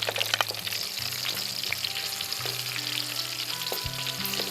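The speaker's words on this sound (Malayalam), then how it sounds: "ഇനി അല്പം പെരിഞ്ചീരകം ഇടാം. പച്ചമുളക് ഇടാം." Green chilies, mustard seeds and fennel seeds frying in hot oil for Kerala-style chicken chukka, a steady close sizzle with small pops and crackles throughout, alone without voices.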